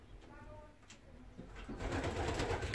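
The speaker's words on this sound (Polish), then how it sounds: "Obejrzymy dzisiaj na pierwszym gołębiku gołębie czerwone, przede wszystkim kaliny." Old Polish red pigeons in a pigeon loft give soft, low cooing that rises and thickens toward the end, over steady rustling background noise.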